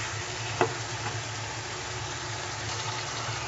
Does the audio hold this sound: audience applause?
no